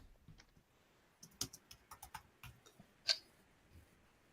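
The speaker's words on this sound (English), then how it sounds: "I'm just still typing all of Fredo's" Computer keyboard typing during a live homebrew tabletop game session: scattered, irregular key clicks in short bursts, fairly faint and close, with one louder keystroke near the end and no talk over it.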